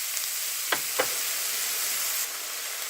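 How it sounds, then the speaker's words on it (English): Garlic and seasonings frying with sautéing onions in a pan, a steady, close sizzling hiss with a couple of quick scrape or stir sounds early on, no voices. "Tossing in the garlic. And sprinkling in all of the seasonings."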